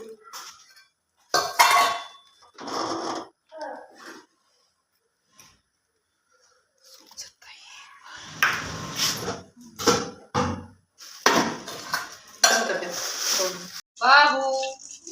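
Steel pots and utensils clank and clink in a home kitchen as jeera rice gets made, in scattered bursts of close metallic knocks and scrapes with short pauses between, while someone talks now and then.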